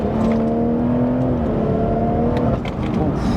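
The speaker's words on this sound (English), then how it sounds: "No houses around here, so we can give it some burbles again through here." A BMW M240i with its exhaust resonator removed revs and burbles up close, a throaty drone with crackling pops near the end, loud and continuous.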